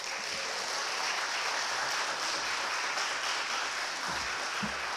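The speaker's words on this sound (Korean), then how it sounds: "우리 목사님 나오실 때 박수로 목사님 환영하도록 하겠습니다" A church congregation applauding to welcome the pastor at a special worship gathering, a steady, even wash of clapping at moderate distance, continuous for the whole stretch with a few low thumps near the end.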